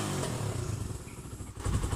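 Carbureted Raider 150 motorcycle engine idles nearby, a steady low rumble with slight uneven pulsing and faint rattling, continuous throughout without any voices.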